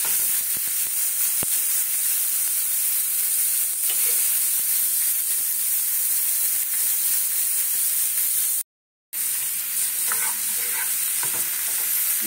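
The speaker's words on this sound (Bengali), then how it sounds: "এবারে টমেটো আর পেঁয়াজটা দিয়ে দেবো।" Chopped tomato and onion sizzle loudly in a hot oiled pan, a steady, bright crackling hiss that holds throughout with faint stirring clicks and one brief dropout near the end.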